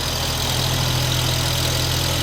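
Small Orion 244 mini tractor engine running steadily, a continuous mid-low drone with a faint knocking texture, held at a constant level throughout without obvious revving swells, close by and with no talk over it.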